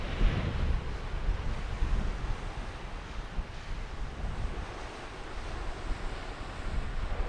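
Surf rolls continuously onto a beach along the Scottish coastline, a soft, wide wash of waves mixed with low wind rumble buffeting the microphone, with no voices.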